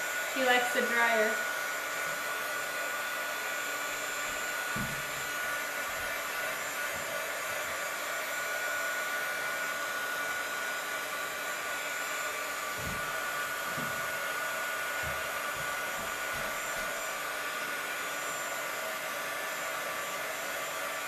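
A hair dryer whirs steadily at close range throughout, a constant high-pitched airy drone with a few soft bumps and clicks underneath.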